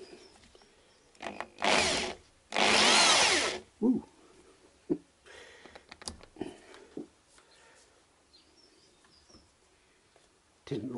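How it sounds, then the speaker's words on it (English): Two short bursts of a power drill whirring as it drills out a stud on a Jaguar XJ900S engine, then scattered clunks and scrapes with brief voices and quiet gaps between. "Drill it first and see what happens."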